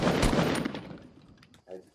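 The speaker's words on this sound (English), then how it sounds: "Someone has a sniper rifle." A sniper rifle fires in the Fortnite video game: one loud, sharp crack whose echo rolls off over about a second, followed by a brief, fainter burst of noise.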